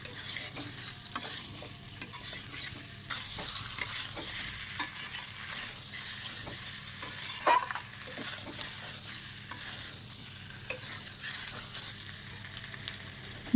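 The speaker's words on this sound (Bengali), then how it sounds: "মশলার সাথে গাঠি কচুগুলো ভালো করে মিশিয়ে নিয়েছি" Fried taro stirred into a spice masala in a pan: repeated close scraping and clacking of a spatula over a continuous soft sizzle, with no talking.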